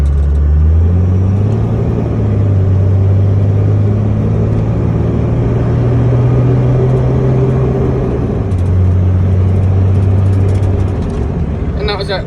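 A 2002 Ram 2500 pickup with the 5.9 Cummins diesel pulls hard at about 80% throttle. Its deep, loud engine drone holds a steady low pitch for several seconds, then drops partway through.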